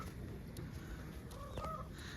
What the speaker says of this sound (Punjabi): ਕੱਗੂ ਏ ਲੋ ਮੁਰਗਿਆਂ ਦੀ ਵੀਡੀਓ ਬਣਾਈ ਜਾਂਦਾ ਬੈਠਾ